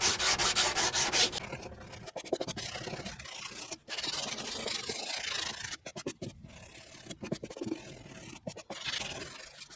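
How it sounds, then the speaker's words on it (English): Hand sanding of hardened metal body filler over a rusted panel repair, a steady close abrasive rubbing and scraping with short pauses between strokes, no talking. "So continue to sand this whole area until it's completely"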